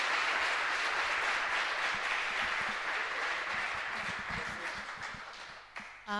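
A conference audience gives a long round of dense applause after a featured talk, loud at first and gradually thinning out, with a brief voice near the end.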